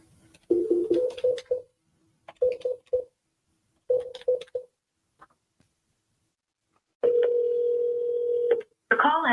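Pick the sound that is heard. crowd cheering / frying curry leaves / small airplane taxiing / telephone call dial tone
telephone call dial tone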